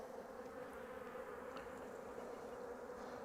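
Honey bees buzz steadily around a hive at an orchard apiary, a dense, continuous drone that holds at an even level throughout with no voices.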